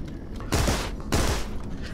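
Gunfire in the video game Rocketbirds: Hardboiled Chicken, two loud bursts of rapid shots about half a second apart, each lasting roughly half a second, over quieter game background.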